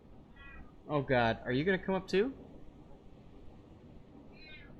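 A house cat meows in a quick run of several close, loud calls, then a faint meow follows after a pause, while a person's voice is heard nearby.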